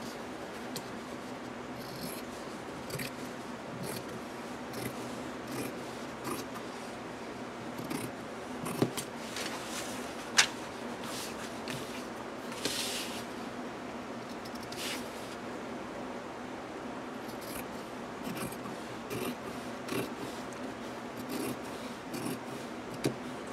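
Scissors trim excess fabric from a junk journal cover, a run of soft, close snips and rustling cloth spaced through the stretch, with almost no talk.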